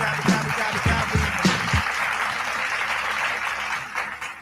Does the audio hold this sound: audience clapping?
yes